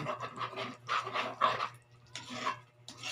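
A dog pants rapidly and steadily nearby, short breathy bursts repeating in an even rhythm over a low background hum.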